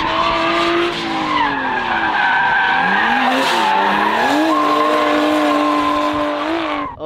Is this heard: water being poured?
no